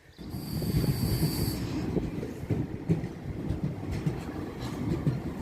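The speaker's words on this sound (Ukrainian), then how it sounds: "Наш потяг. Їдемо до Відня. Ми вже в потязі." A passenger train bound for Vienna, a comfortable regional service, rumbles along in a steady, close low roar with faint rhythmic clatter from the wheels. There is no talking.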